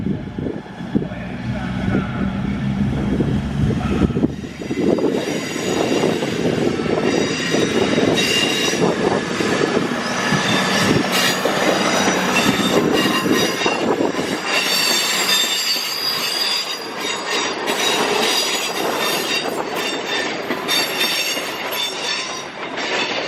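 Class 221 train 221107 departing Crewe station, a rumbling start that builds into loud, sustained metallic wheel squeal and rail clatter, with faint voices in the background.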